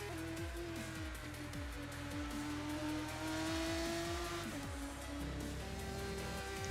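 Race cars in a sim racing game heading back to the pits after the Chinese Grand Prix: several engines revving and shifting through gears one after another, with a steady whine and occasional tire noise, no talking.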